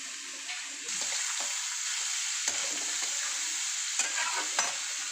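Carrot and beetroot frying together in a pan give a steady, close sizzle that runs throughout, with occasional scrapes of a spatula stirring.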